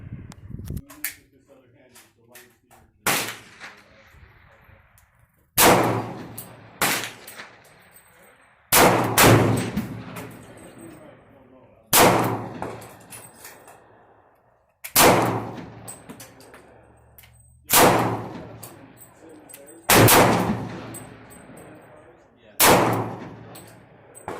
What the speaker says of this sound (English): You can see the targets and you can see shooting and so on and so forth.